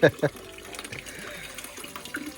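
Water runs from a tap through a pipe to refill a container, a splashy trickling stream heard under someone talking, with a couple of sharper knocks at the start.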